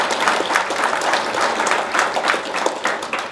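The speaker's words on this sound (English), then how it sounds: "they definitely deserve a clap." Conference audience applause, dense, even clapping from a sizable crowd in a hotel venue, sustained at a steady loud level throughout with no talk over it.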